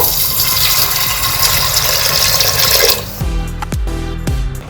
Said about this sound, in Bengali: প্রেসার কুকারে দিয়ে দেব, জল দিয়ে দেব